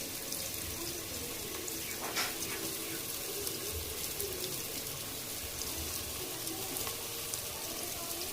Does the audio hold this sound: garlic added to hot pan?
yes